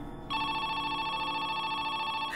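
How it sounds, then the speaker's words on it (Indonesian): A telephone rings with a bright, continuous electronic trill that starts abruptly and keeps sounding, close and fairly loud. "Dan telepon itu berbunyi kembali."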